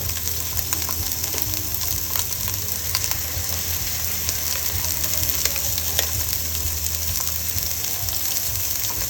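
Sausages fry in a pan with a steady, dense sizzle and crackle that holds at an even loudness for the whole stretch, with tiny pops scattered through it.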